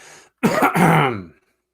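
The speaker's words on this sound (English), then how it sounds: "sound of coughing interrupts her." A single rough cough, or a throat-clearing hack, sounds nearby after a brief moment of quiet, then fades out.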